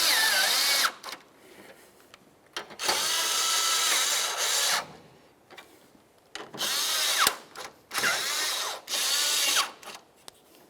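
A power drill runs in repeated short bursts of several seconds each, tightening headlight mounting bolts on a 1999-2003 Toyota Solara, loud and close with brief pauses between runs.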